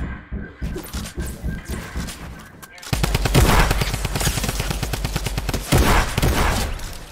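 A drum gun fires in a video game in rapid, sustained bursts of loud automatic gunfire, preceded by quieter rhythmic shots, with voices talking faintly over the action.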